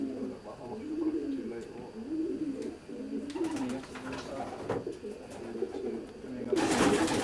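Racing pigeons coo steadily inside a roomy wire-floored loft, a close continuous burble with a few sharper rustles and flutters toward the end.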